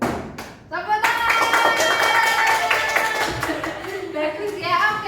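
A class of children claps hands at the end of a song in a school classroom, with a burst of scattered clapping mixed with voices and a teacher's speech over it.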